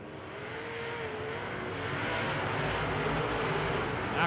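Modified race cars running on methanol at a dirt speedway roar steadily at a distance, a sustained engine drone swelling slightly as the pack circles, with no voices.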